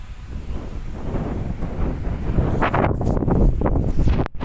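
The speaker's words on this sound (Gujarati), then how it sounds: "એ બાજુ તો એકદમ જબરજસ્ત પવન આવે છે" Strong wind buffets the microphone in heavy, roaring gusts that swell and fade, with no other sounds.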